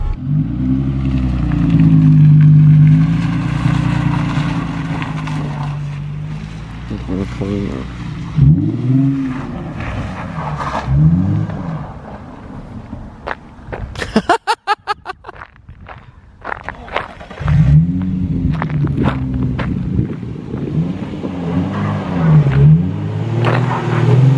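A Nissan 350Z drives off and turns around, its engine rumbling and revving loudly nearby, dropping away briefly in the middle before returning as the car swings back, with voices talking at times.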